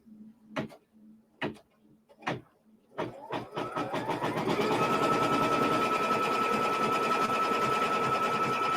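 An embroidery sewing machine stitches fabric: a few separate thumping needle strokes, then a rising run of rapid rhythmic clatter that settles into a steady, loud mechanical hum.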